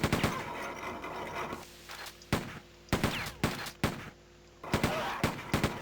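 Enemy gunfire in Quake 2, loud sharp shots in irregular bursts, some rapid and clustered, over a low rumbling game ambience.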